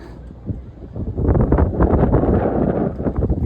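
Strong, cold wind gusts roar steadily into the microphone outdoors where a MAP sensor is being removed and cleaned, a dense rumbling rush that swells and stays loud.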